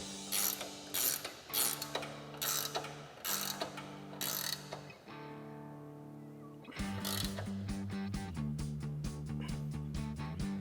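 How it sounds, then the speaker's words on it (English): A 21 mm ratchet wrench tightens a flag nut on a Jeep Wrangler JL tie rod, clicking in a run of quick bursts with short pauses, then a longer, steadier stretch of close, loud ratcheting. "we'll grab our 21 mil ratchet wrench"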